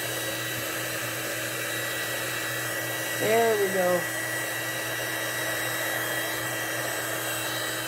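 A steady hair-dryer-like blower runs close and continuously, pushing air over poured tabletop resin to froth it, with someone briefly speaking partway through.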